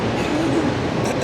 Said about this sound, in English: That is our double-decker train. Yeah, it's arrived.